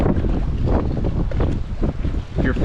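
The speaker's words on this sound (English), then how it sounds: "the wind and tide are kind of pushing so hard that it's really tough to hold that position" Strong wind buffeting a fishing boat out on the water during fall tautog fishing, with wind and tide pushing hard; a steady, loud roar of wind noise on the microphone with a broadband rumble and no talking.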